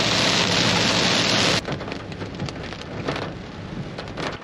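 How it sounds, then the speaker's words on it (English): Heavy rain pours down in a rainstorm during truck camping, first a loud dense hiss, then a softer patter with scattered drops. "Just buckets of rain."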